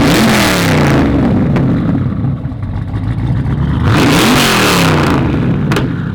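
The twin-turbo 1,600 hp Chevelle restomod engine, breathing through a full 3-inch stainless exhaust, revs hard twice. Two loud rising and falling bursts are heard close by, with a steady deep idle rumble between them.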